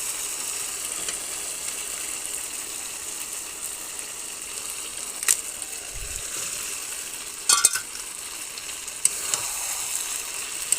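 Chicken curry being sautéed in a pan, a soft even frying hiss running throughout with a few brief scraping clicks from stirring, close and unhurried with no voices.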